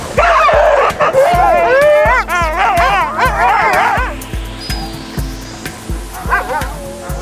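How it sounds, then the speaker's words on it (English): Arctic sled dogs, working team animals that pull sleds in groups of up to ten, bark, yip and whimper excitedly up close, a loud overlapping chorus that fades to scattered yelps. "Each sled is pulled by up to 10 dogs."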